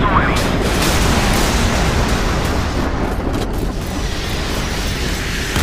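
Loud, sustained roar of a missile launching from a Chinese Type 052D guided missile destroyer in Modern Warships, a broad rushing blast filling the whole clip without pause.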